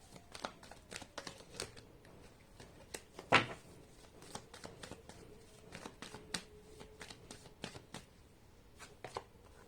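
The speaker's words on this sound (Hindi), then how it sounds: "मैं ऐसे रख देती हूँ कार्ड्स, आपको ज्यादा अच्छे से दिखाई देंगे।" Tarot cards being handled and set down one by one during a reading, making soft, close slides and light taps in an uneven rhythm, with one louder rustling thump partway through and no talking.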